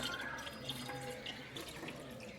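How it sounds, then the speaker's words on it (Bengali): Water from a large household drum being poured, a steady gentle splashing and trickling stream heard close and fairly quiet, with no talk. "জলটা একটু ঢেলে দেবো।"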